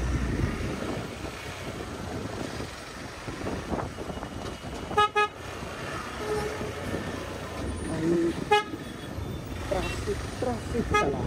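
Dense road traffic at the Mangaon bus depot on the Mumbai–Goa highway, a steady roar of cars, trucks and buses with several short horn toots around the middle, heard from a motorbike with voices talking over it.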